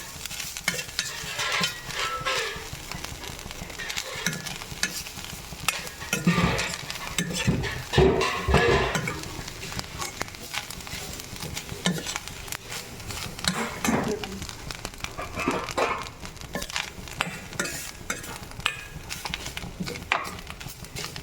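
Grated coconut frying in a pan until brown for kori rotti, a low sizzle under irregular scraping and stirring clatter of a spoon against the pan, with faint background noise.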